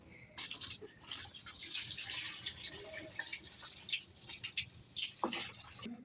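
Water is poured out of a fish tank onto the ground below, a continuous splashing gush with scattered drips and spatters, moderately close and steady for several seconds.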